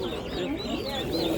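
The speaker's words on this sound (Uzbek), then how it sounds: "Kabutarlar bor ekan. Mana kabutarlar" Pigeons at a market coo in soft, rolling, repeated calls that carry steadily at moderate distance, with no clear speech.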